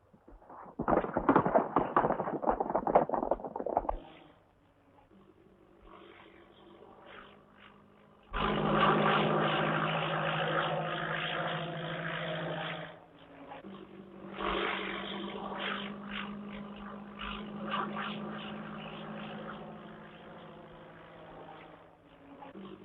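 A propeller airplane passing overhead in an old radio-style adventure serial, a droning engine that swells in and holds steadily, with another noisy burst before it and quieter lulls between.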